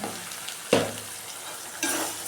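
Onions sautéing in a pan give a steady low sizzle, with a sharp burst of frying noise and stirring near the start and a second brighter flare late on, no voices present.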